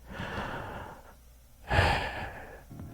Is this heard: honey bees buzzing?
no